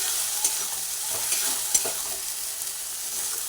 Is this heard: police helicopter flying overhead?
no